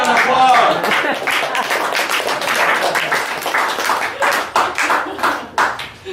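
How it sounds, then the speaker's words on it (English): An audience at a live magic show claps for several seconds, a dense burst of hands that thins into scattered, separate claps toward the end. "round of applause."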